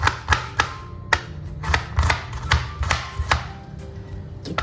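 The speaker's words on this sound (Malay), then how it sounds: "Okey, kita potong bawang putih." Sharp knife strokes chop garlic on a cutting board for a Malaysian fish berlado dish, about a dozen distinct close chops in uneven bursts, each a crisp thud with a clicky edge, no talking.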